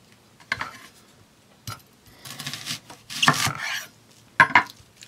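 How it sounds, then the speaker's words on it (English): Onions for chili are chopped on a board in a few separate, uneven bursts of close knife strikes, with quiet gaps between them. "the first thing we're going to do is chop up two beautiful onions"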